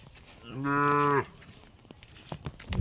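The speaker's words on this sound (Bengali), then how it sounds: "গরু" A single cow moos once, a long, steady low call lasting over half a second, heard outdoors on a village road by fields and a pond, fairly close and clear with quiet surroundings before and after.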